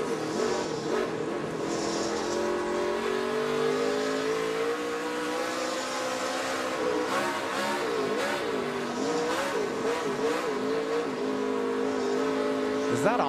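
Christopher Bell's race truck engine revving hard on and off the throttle, a loud continuous roar rising and falling in pitch with wavering surges, under a commentator's voice.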